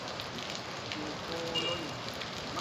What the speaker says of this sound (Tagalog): biglang lumakas ang ulan